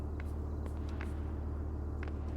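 A deep, steady tank engine rumble drones throughout in the video game Arma 3, with faint metallic clicks and taps over it.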